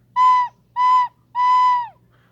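Recorder blown with pushed breath from the stomach and no tonguing: three loud, close whistly notes on one pitch, the first two short and the last longer, each swelling in and sagging in pitch at the end.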